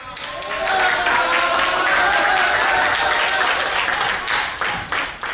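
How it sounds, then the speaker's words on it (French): A thunder of applause breaks out at a public-speaking school in Dakar after a candidate passes his oratory test, dense clapping rising quickly and holding steady before thinning slightly toward the end. "Un tonnerre d'applaudissements est entendu"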